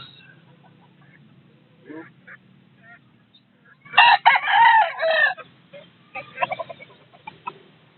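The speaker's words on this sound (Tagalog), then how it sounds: "Manok na pula" A rooster crows loudly up close, followed by a few short clucks from chickens, with quiet gaps in between.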